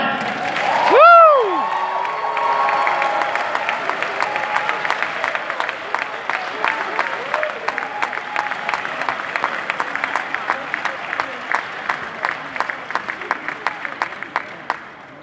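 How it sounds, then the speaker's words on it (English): Graduation ceremony audience at Faith International University bursting into applause and cheering after a whoop at the start, the clapping thinning out into scattered, sharper individual claps toward the end. "Round of applause for Ray Philip DeLand."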